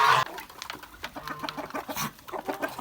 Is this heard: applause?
no